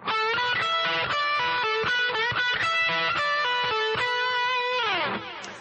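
A distorted electric guitar plays a fast metal lick, rapid single notes in four-note groupings with bends and a descending run that trails off at the end, loud and unaccompanied.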